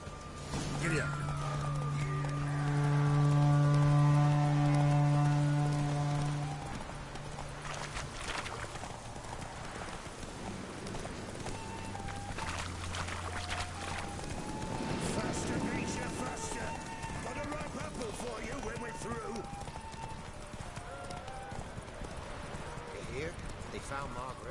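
A horse galloping during a race in The Witcher video game, steady hoofbeats under a musical tone and a spoken voice, moderately loud throughout.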